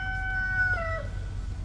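A rooster lets out a single clear crow nearby, its tone sliding downward as it fades, over a low rumbling background.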